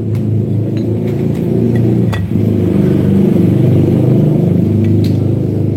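Honda CBR motorcycle engine with a loose piston, running steadily and close by with a dense low rumble and faint repeated ticking knocks throughout; no one speaks.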